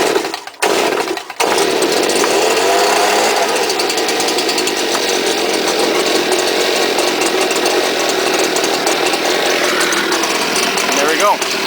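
A cold STIHL chainsaw engine sputters with a couple of brief pulls, then catches and roars loud and close at a steady, rattling high idle that runs on continuously.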